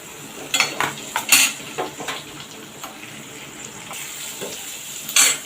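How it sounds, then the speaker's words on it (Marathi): Chopped onion sautéing in oil in a pan, with a steady soft sizzle under repeated sharp clinks and scrapes of a utensil against the pan, close by. "तो कांदा वगैरे आपण थोडा तेलावर परतून घेणार आहोत"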